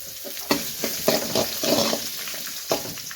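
Small chopped sambar onions with cumin and fennel seeds sizzle in hot oil, a steady close frying hiss broken by repeated scraping stirs, with no talking.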